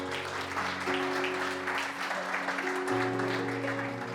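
A church congregation gives a pianist a round of applause, heard as steady, moderately faint clapping over a sustained organ-like tone.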